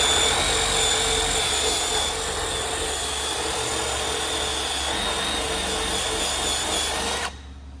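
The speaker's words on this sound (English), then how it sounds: "Now I'll show you the tool that you actually need to take the emblems off. Take a little eraser wheel." A small eraser wheel spins at high speed against the body of a third-generation Cummins Ram truck to strip emblem adhesive, a constant loud whirring grind that runs steadily before cutting off abruptly.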